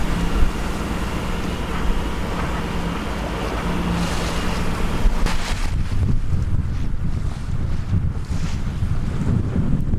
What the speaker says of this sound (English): The wind is starting to build a bit now.